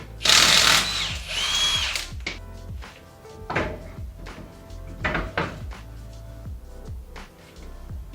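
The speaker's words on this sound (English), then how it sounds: "first thing we gotta do is pop this wheel off" Power tool whirs in short bursts while pulling a wheel off a Nissan 240SX off-road project car, each burst followed by clunks and rattles of parts, close and fairly loud, no talking.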